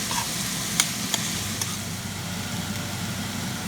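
A chickpea curry with coconut is stirred in a hot pan, giving a steady close sizzle with a few sharp scrapes of the spoon early on and no talk.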